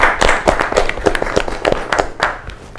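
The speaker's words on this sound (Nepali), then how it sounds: "रोलेक्सको लागि ताली बजाऊ" Clapping for Rolex on a Nepali show: a small group claps in a brisk, uneven rhythm of sharp close hand claps that gradually tapers off over a few seconds.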